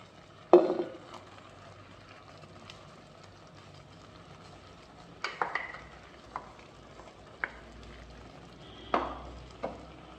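A spoon stirs kaalan curry with ground coconut paste in a pot: a few sharp scrapes and knocks, spaced apart, over a quiet low background with long gaps between strokes.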